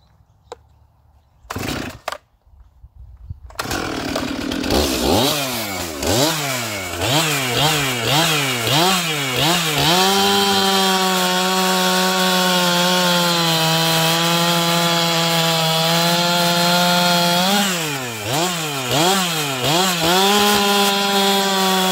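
Chainsaw with a full chisel chain and no bar tilt cutting through wood, starting after a few clicks, revving up in repeated surges, then holding a loud steady bite before easing and surging again.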